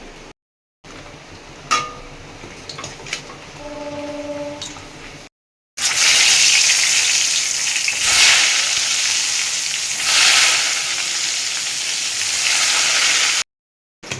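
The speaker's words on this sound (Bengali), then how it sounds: "আর হবে বেগুন ভাজা একদম লম্বা লম্বা মোটা সমেত বেগুন ভাজা" Long, thick eggplant slices sizzle steadily in hot oil, a loud continuous crackling fry that runs for several seconds without speech.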